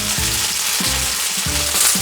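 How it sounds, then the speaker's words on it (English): Shrimp sizzle steadily in a hot pan, a continuous broadband fry hiss running unbroken at close range with no voices over it. "When the pan's hot, I'm going to put my shrimp in here."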